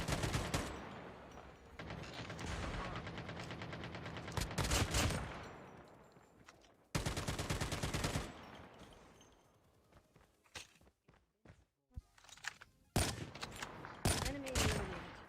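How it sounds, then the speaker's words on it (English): Bursts of M4 LMG machine gun fire in a battle royale video game, rapid sustained volleys broken by pauses and scattered single shots, loud and close with other gunfire and game noise. "M4 LMG going to be the gun choice for Deranged."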